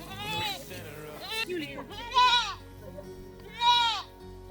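Goats bleat outdoors in a Nepal landslide-prevention project setting, several wavering, fairly loud calls rising over a background of talk.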